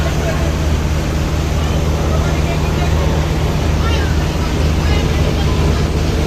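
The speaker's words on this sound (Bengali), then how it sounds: "এক ইঞ্জিন বিশিষ্ট নৌযান মিরাজ 1 এর ফার্স্ট।" The engine of Miraj 1, a single-engine passenger river launch, drones in a steady, loud low rumble throughout, mixed with wash and general crowd noise aboard.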